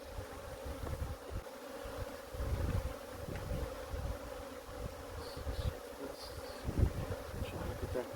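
Honey bees buzzing steadily around a frame of capped brood pulled from a crowded two-way mating nuc, a close, low droning hum with occasional louder passes near the microphone.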